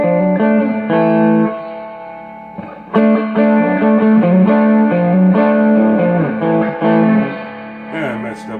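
Electric guitar played through a Fender Twin amplifier with the gain turned up, ringing sustained chords and riffs with a slightly overdriven, effects-tinged tone, loud and close, with a brief pause near the three-second mark.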